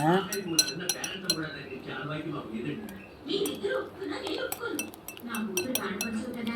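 Chilli paste and spices being mixed in a bowl, with clinking of a metal spoon against the bowl in quick bursts and scraping between them, a voice speaking over much of it.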